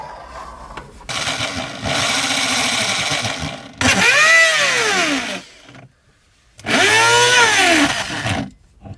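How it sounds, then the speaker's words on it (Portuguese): Power drill boring a hole into a van during a heater installation, whining in three long bursts with rising and falling pitch and short pauses between, close and loud with no talk. "Então vamos ter que fazer o furo primeiro"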